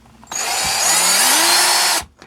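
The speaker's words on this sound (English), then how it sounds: "And just drill right through it" Power drill boring through the upright of a Tamiya Midnight Pumpkin RC truck's front suspension: a loud, steady whine that runs for about two seconds, its motor pitch rising as it bites, then stopping abruptly.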